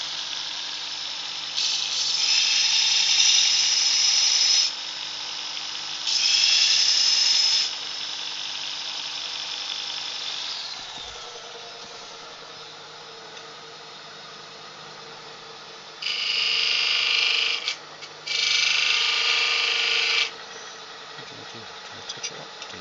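A woodturning skew chisel is touched up on a powered grinder or sharpener, with four loud bursts of high whining grinding separated by a quieter steady motor hum.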